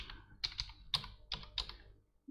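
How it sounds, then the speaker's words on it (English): Short burst of typing on a computer keyboard: several crisp, close key clicks in an uneven rhythm over about two seconds in a quiet room. "Go to Google or your browser and type in Freecad"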